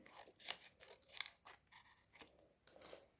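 Scissors snip two small pieces from a craft material in a quick run of close, crisp cuts, each with a short sliding rasp, in a quiet room.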